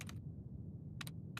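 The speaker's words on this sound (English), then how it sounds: "That's what my keyboard sounds like when I type, and it's brilliant." Clacky keystrokes on an IBM Model M keyboard come in small clusters, a quick flurry of three or four presses, then a pause and another short burst, faint and close over a low background hum.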